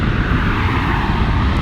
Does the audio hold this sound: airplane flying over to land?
yes